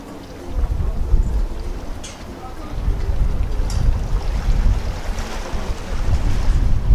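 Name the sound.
waves at a North Sea harbour, North Berwick, Scotland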